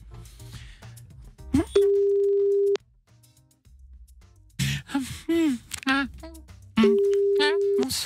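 Telephone tones ring out on a live radio show as a listener is dialed: two long steady beeps separated by brief gasps and short bursts of voice, loud and close.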